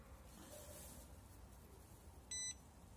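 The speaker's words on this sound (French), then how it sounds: "ça fait bip." A single short, high electronic beep from an Ant battery BMS sounds once over faint background hiss.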